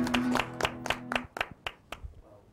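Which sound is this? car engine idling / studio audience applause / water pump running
studio audience applause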